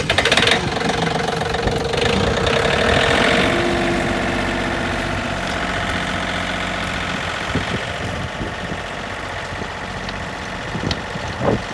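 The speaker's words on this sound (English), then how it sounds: "We got the tractors out, we're doing a little tilling." A tractor engine idles steadily at a ranch while ground is tilled for food plots, a continuous low, knocking rumble with mechanical vibration that holds at fairly even loudness throughout.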